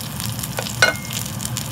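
Meat sizzles hard in a pan over high heat as it is stirred, with a constant frying crackle and a brief scrape of the utensil.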